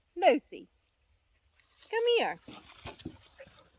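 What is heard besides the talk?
dog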